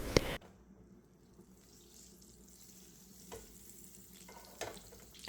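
Fish pieces frying in butter and olive oil in a pan, a soft, low sizzle after a loud opening clatter, with a couple of brief bumps of movement.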